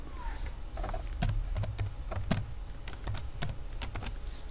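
Fingers tap on a computer keyboard in bursts of quick keystrokes with brief pauses, close and crisp against a quiet room.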